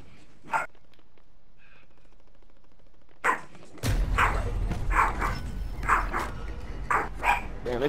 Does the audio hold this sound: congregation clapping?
no